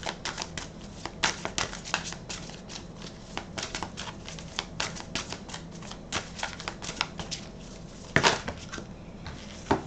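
Tarot cards shuffled and drawn by hand, a dense run of crisp riffling snaps and slides with short pauses and one louder slap near the end, close and alone with no talk.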